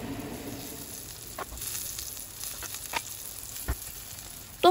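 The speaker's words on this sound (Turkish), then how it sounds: "Bu şekilde kızardıktan hemen sonra arkasını çevirip kızartıyorum" Tomato slices frying in a pan, a soft continuous sizzle with a few brief clicks and pops, fairly quiet and close, with no talk over it.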